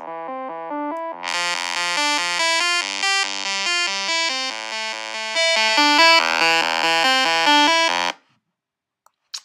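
A bright, buzzy hardstyle trance lead from a synthesizer with stacked saw voices, playing a continuous stepping melodic phrase, loud and close, that stops abruptly near the end.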